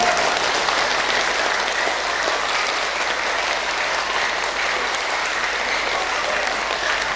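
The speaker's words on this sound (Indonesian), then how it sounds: "Maka lepaslah tepuk tangan dengan meriah." An audience at a university faculty orientation event breaks into lively, sustained applause, a steady wash of many hands clapping throughout.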